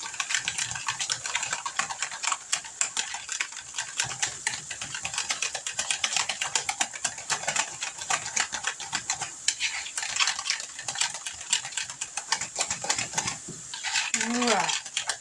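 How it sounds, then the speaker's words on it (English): Burrito casserole ingredients are whisked in a bowl, giving a steady, dense run of fast clicking and tapping against the bowl for the whole stretch, close and fairly loud, with no talk. "we're going to whisk this up together"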